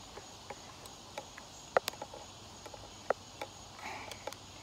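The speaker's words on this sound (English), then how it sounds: "there's bugs everywhere" Insects chirp faintly outdoors, a thin steady background buzz with scattered short clicks and ticks at low level, no voices.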